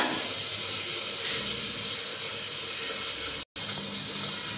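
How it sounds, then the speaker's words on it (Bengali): Fish curry broth simmering in a pot on a stove, a steady broadband bubbling hiss that continues without pause at close range, with no voices. "তো আমার ঝোল ফুটে গেছে আর মাছগুলো আমি ফুটিয়ে দেবো এটা।"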